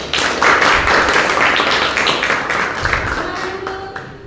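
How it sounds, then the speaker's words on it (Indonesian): Clapping from a classroom audience applauding a student group during a lesson, a dense burst of hand claps that holds steady for several seconds and slowly fades toward the end. "Tepuk tangan untuk kelompok 1."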